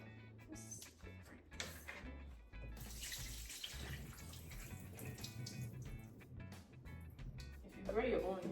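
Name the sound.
tap water running while washing supermarket produce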